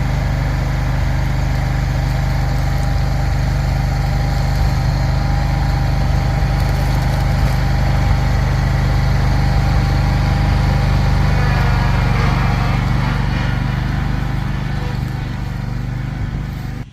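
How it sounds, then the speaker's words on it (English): A lawn mower runs continuously and close by while mowing a customer's lawn, with a steady loud engine drone and no talking. "A lot of it we can pulverize with the mower."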